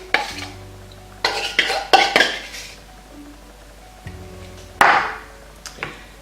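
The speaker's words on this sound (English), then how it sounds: "So I'm just going to stir this into my brownie mixture." A utensil stirring a spread into zucchini brownie batter with olive oil in a bowl, giving several bursts of scraping and clinking against the bowl, close and clear, separated by brief pauses.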